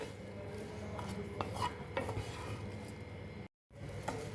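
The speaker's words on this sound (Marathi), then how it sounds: "आणि आता आपण ब्रेड क्यूब केलेले ते ॲड करूया आणि 1-2 मिनिट ह्याला लालसर कलर येईपर्यंत भाजून घेऊयात." Bread cubes roasting in butter in a pan, stirred with a utensil: quiet scraping and light clinks over a soft low sizzle, faint and close, with a brief dropout near the end.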